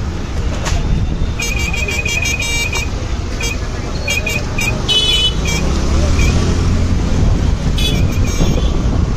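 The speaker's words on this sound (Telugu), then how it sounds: "Full traffic road." Busy traffic on a crowded road in the Tapovan area of Rishikesh, with engines rumbling close by and car horns tooting in short repeated bursts and longer blasts throughout.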